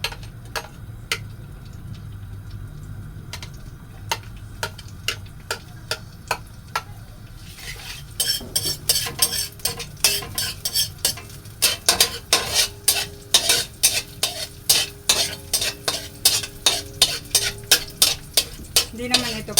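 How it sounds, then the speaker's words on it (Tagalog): Garlic sautés in a pan on high heat for a chayote and sotanghon dish. A soft sizzle runs under sparse clicks, then sharp, rhythmic spatula taps against the pan grow louder and steady. "Pagkatapos, ilagay na natin ang ating bawang."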